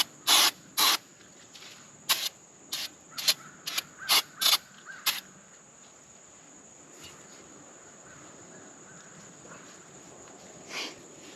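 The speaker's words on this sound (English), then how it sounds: "I will clean it a little bit with some brake clean." Brake cleaner sprayed on camper wheel bearing parts in a series of short, sharp hissing bursts, about eight quick spurts close by, then quiet with one last faint spray.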